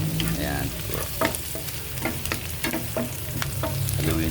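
Garlic and broccoli sizzling in a pan while being stirred, a steady fry hiss broken by repeated scraping clicks of the utensil, close and without talk.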